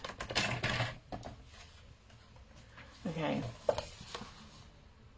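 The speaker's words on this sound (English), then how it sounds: "I'm going to score these marks so that they're easy to see, and you want to score them both ways." Scoring tool drawn across paper while making marks, a few short scraping and tapping strokes in quick bursts, close and faint, with a brief spoken word alongside.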